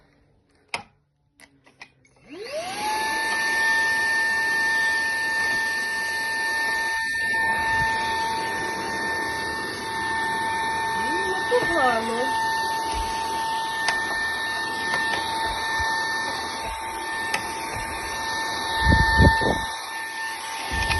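A vacuum cleaner starts up after a few clicks and keeps up a steady whine in a room where mattresses are being cleaned, with faint voices and knocks now and then beneath the motor hum.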